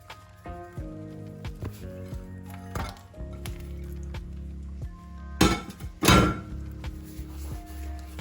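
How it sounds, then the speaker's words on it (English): A cake is turned over onto a cake board, giving a few dull thunks and clinks of pan and board, with two louder knocks close together near the end. "Now we're going to flip the cake over."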